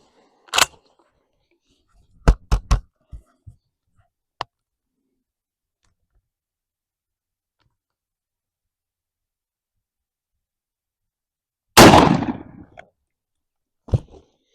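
A Winchester SX4 12-gauge semi-auto shotgun with a Muller choke fires one loud pattern-test shot of 1 1/4 oz tungsten-steel blend load, preceded by scattered handling clicks and followed by a brief click.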